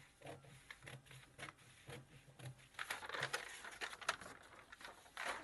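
Scissors cut through the fabric pattern of an underbust corset belt, making a series of soft, irregular snips and crinkles of handled material, quiet and close, with no talking.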